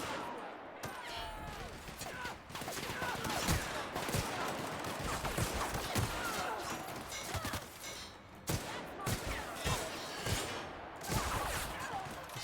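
Rapid gunfire from the video game The Outer Worlds, bursts of sharp shots rattling in quick succession through a chaotic firefight, loud and close, with brief pauses between volleys.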